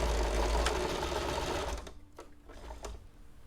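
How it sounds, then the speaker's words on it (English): A sewing machine runs loud and close with a steady mechanical whir, then stops partway through, leaving a few soft clicks and handling taps in a quieter room. "We kind of call jokingly the sewing machines the earthquakes"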